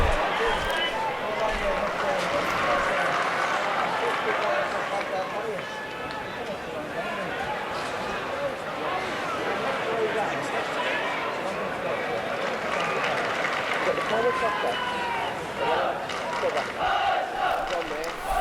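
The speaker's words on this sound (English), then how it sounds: "that's the Leicester City supporters you can hear in the background" Leicester City supporters at Goodison Park during an Everton v Leicester City football match in December 1986 keep up a steady, distant crowd roar, with cheering and chanting swelling and fading under close commentary talk.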